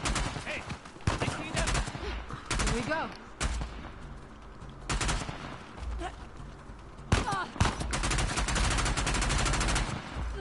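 Gunfire in the video game Uncharted: The Lost Legacy: rapid bursts and heavy blasts that repeat through the whole stretch, loud and dense, with a voice talking at times underneath.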